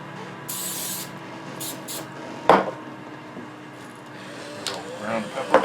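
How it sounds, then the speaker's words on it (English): A few short hissing bursts of olive oil from a spray bottle close by, with soft kitchen clatter and a sharper clunk in between. "Spray some olive oil."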